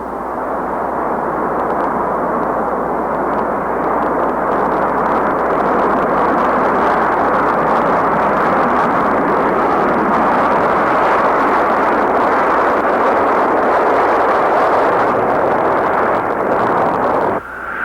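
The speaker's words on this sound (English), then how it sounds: "The Concorde is here." A loud, sustained Concorde jet roar fills the whole stretch with dense broadband rumble, steady and unbroken, cutting off abruptly at the end.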